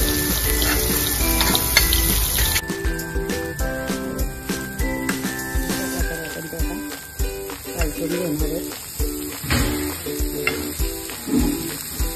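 Shivling vegetable bhaji sizzles steadily in a pan, a continuous frying hiss heard close up beneath a layer of steady tonal background music.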